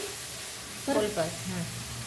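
Masala sautéing in oil in a kadai for kadai paneer gravy, a soft steady sizzle with a few brief scraping stirs near the middle, close and fairly quiet.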